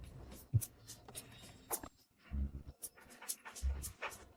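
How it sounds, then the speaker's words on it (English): A dog pants in quick, soft breaths and lets out faint whimpers, close and quiet, with light shuffling movements and no talking. "Where did the dog come from?"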